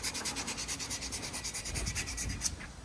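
A coolant reservoir on a 1967 Firebird gets a brushed finish, with a steady, close scratchy rubbing whose strokes repeat rhythmically, alone and fairly quiet.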